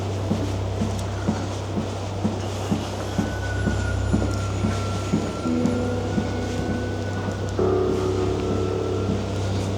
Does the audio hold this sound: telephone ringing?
no